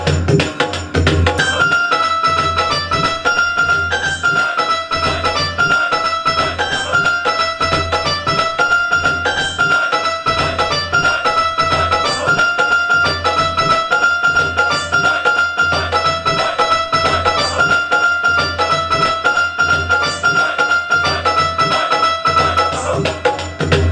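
Yamaha MX49 keyboard plays a layered performance patch of two banjo voices from its ethnic bank, a bright plucked melody running steadily over a backing beat with thumping low drums for the whole stretch.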